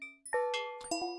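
Synthesized wind chimes programmed in SuperCollider ring out as a few clear, bright metallic tones struck at irregular moments, each sustaining and decaying, quiet and with no talk.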